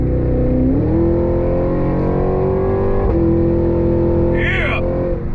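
Supercharged engine of a 2023 Cadillac Escalade-V SUV accelerating hard, a loud steady drone with a faint rising supercharger whine, a quick gearshift from the 10-speed transmission midway, and a brief higher tone near the end.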